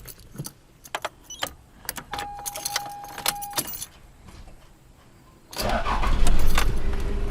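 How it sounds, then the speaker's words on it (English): Keys jangle in the ignition of a 1990s Toyota Land Cruiser Prado turbo diesel, followed by a few clicks and a chime, then the engine cranks and catches into a loud, steady idle close by. "So I'll go and crank the car on real quick."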